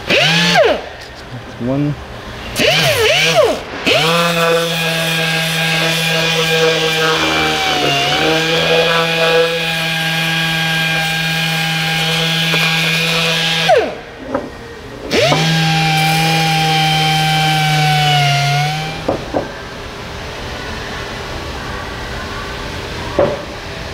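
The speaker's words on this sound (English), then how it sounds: "I'm going to use a DA sander." DA sander working on an asphalt pump from an Etnyre distributor, a loud buzzing whir in several long runs that start, stop and wind down, with brief speech near the end.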